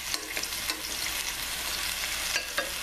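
Lamb pieces sauteing in a pan, with a steady soft hiss of searing meat and a few light clinks of stirring over the sizzle, alone and close.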